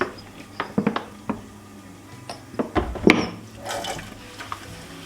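Hot tap water splashes into a kitchen sink in winter while an old pan and other dishes are washed, with sharp clanks and knocks of cookware punctuating the intermittent running water, no talking.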